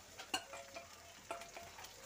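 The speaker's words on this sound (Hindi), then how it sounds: "इसको मिक्स करते हैं और थोड़ा भूनते हैं" Onion and tomato with green chili frying and being stirred in a pan for brinjal bharta, with faint sizzling and a few light spoon scrapes and taps, quiet and close.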